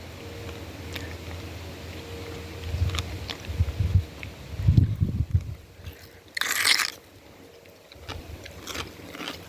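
Biting into and chewing a crunchy raw radish: several close, loud crunches in irregular rhythm, with a sharper bite partway through and quieter chewing afterward, no talking.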